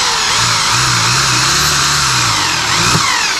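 Iron being drilled through without a drill bit, using a power tool: a loud, steady grinding whine fills the whole stretch, with a low wavering hum underneath and a brief bump near the end.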